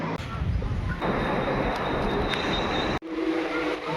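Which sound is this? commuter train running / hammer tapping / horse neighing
commuter train running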